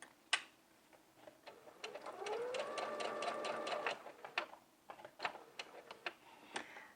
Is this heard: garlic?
no